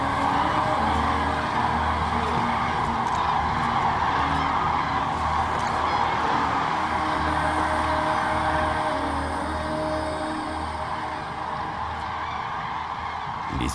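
A dense chorus of cranes calls from a lake, a continuous mass of loud honking and trumpeting overlapping throughout and easing off slightly toward the end.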